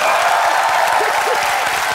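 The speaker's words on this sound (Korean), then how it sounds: "카메라 감독님께 박수 한번 크게 주세요." A large studio audience at a Korean comedy show applauds for the camera director, a steady dense wash of clapping filling the room.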